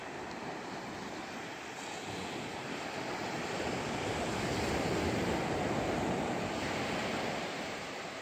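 Ocean surf breaking, a steady broad roar of waves with some wind buffeting the microphone, continuous and fairly loud throughout, with no voices.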